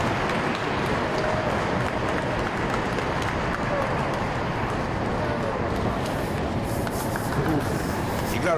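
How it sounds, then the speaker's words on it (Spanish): Loud, sustained applause and cheering from a large crowd after a successful rocket launch for Argentina's CONAE, a dense steady roar of clapping with voices mixed in throughout. "la emoción, los aplausos generalizados"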